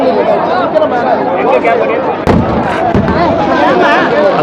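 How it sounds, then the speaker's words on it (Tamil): Firecrackers burst amid a noisy festival crowd at Velankanni, with dense chatter and shouting throughout and one sharp, loud bang partway through. "எங்கே வெடிக்கிறாங்க எங்கே வெடிக்கிறாங்கன்னு வேறு தெரியும்"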